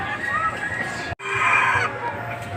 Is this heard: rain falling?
no